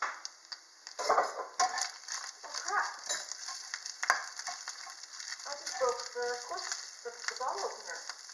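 Food cooks over a homemade aluminium-can alcohol stove outdoors, a quiet crackling sizzle with small pops and taps from the pot, faint and close.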